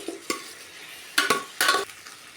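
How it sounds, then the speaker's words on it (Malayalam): Beef and onions are stirred in a hot pan, sizzling softly while a utensil scrapes the pan in several distinct strokes, close and fairly clear. "ഉള്ളിയും ബീഫും എല്ലാം നല്ല പോലെ ഇളക്കി കൊടുക്കുക"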